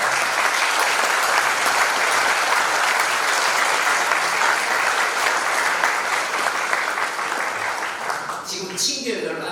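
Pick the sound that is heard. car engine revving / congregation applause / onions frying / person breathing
congregation applause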